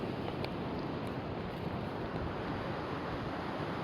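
The Calapooia River rushes steadily in a broad, constant wash of flowing water outdoors, even and continuous with some wind noise and no talk.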